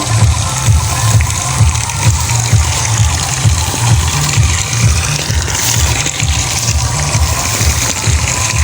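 Water flows freely through the drain and overflow pipe of a tilapia tank, a steady loud rushing and gurgling that carries on without pause for the whole stretch, with no voices.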